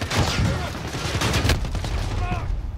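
Rapid shotgun blasts in a first-person shooter match, a dense, loud volley of overlapping gunfire over busy game noise with a voice talking underneath.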